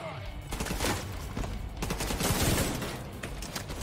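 Light machine gun fire in the video game The Division 2 comes in dense, sustained bursts of rapid shots that rattle on almost without a break, loud and close.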